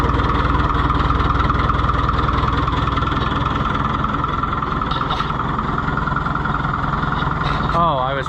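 A Fiat Oliver 1365 tractor engine idles steadily and loudly up close, a dense continuous rumble with a faint wavering tone creeping in near the end.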